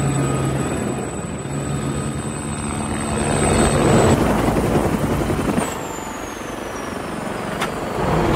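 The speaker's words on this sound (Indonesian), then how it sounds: "Mereka pun segera meluncur ke lokasi menggunakan helikopter." A helicopter flies in a hacker action film, its thudding rotor and engine drone sustained and fairly loud, swelling nearer midway before easing off, with a faint high tone in the background.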